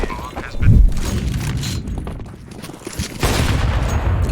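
Counter-Strike 2 gunfire and match sounds: a low thump, scattered shots and mechanical clatter over a busy background, building into a denser, louder stretch of firing toward the end.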